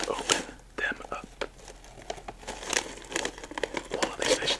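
Plastic snack bag of crunchy sunflower seeds crinkled and rustled in irregular bursts, close and soft, under quiet whispered talk.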